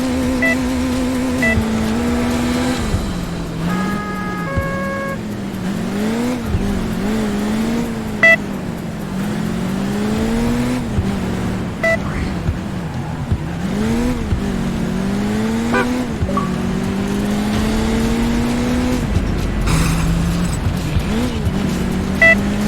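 A car in the video game Crash Time 2: Autobahn Polizei drives fast and takes a jump, engine revving up and down continuously with pitch sweeps, tire squeals and occasional thumps, loud and close throughout.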